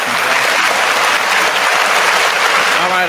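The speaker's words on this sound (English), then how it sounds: "Enough clapping." Dense, steady applause fills the room for about three seconds at full loudness, a continuous wash of many hands clapping with no break, ahead of a gaming-themed livestream show.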